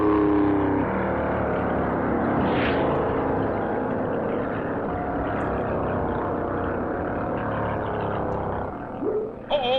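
Engines of 1957 NASCAR Grand National stock cars, among them a Pontiac, roar steadily past on the Daytona Beach road course, a loud continuous drone with a rising whine partway through and a shift in pitch near the end.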